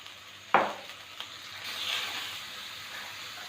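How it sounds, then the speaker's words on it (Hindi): Chopped garlic dropped into hot oil over high heat gives a sudden close splash, then a steady sizzle that lingers for several seconds with no voices. "इसमें 1 चम्मच जो है वो चॉप किया हुआ मैंने लहसुन डाल दिया है।"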